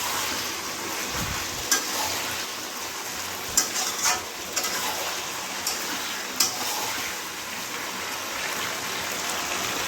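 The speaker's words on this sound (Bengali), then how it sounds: "এবার একটু পকোড়ার সঙ্গে নাড়াচাড়া করে একটু উষ্ণ গরম জল দিয়ে দেব" Chilli chicken pakora tossed with sauces in a hot pan, a steady bright sizzle underneath, broken by a few sharp clinks of a spatula against the metal, close by.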